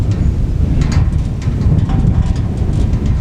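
Steady gusting wind roars across an outdoor roadside attraction, with faint metallic rattles and a brief tonal ring from metal sculptures catching the wind.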